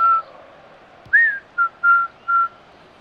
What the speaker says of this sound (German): Jetzt singt der noch. Beziehungsweise pfeift.